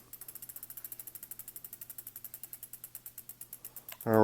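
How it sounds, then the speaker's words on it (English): A tool clicks steadily as the caliper bolts of a bicycle's hydraulic disc brake are snugged down: a fast, even run of close, crisp clicks for about four seconds, ending in a louder clatter. "I'm going to snug down my caliper bolts."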